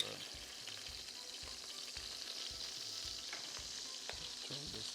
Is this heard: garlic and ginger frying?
yes